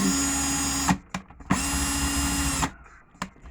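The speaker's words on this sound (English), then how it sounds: "get the drill in forward or clockwise motion again." A power drill whines at high speed in two bursts of about a second each, spinning wire for fused Clapton vape coils, separated by short quiet pauses with faint handling noise.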